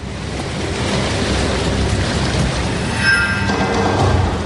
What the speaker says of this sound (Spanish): Cuando el tsunami se acerca a tierra, su velocidad se reduce considerablemente, pero esto provoca que las olas se eleven cada vez más